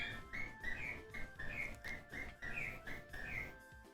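Birds chirping in a Touhou video game, a faint repeated whistling tweet pattern looping steadily over a low background hum.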